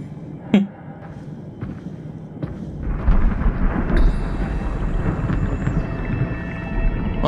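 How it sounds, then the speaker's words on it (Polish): In the video game Soma, a deep underwater storm swells from quiet into a heavy, low rumbling roar that fills the space, with a sharp crack near the start and a thin whine drifting above later. "Odgłosy burzy pod wodą"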